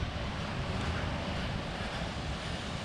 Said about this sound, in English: the wind out here is crazy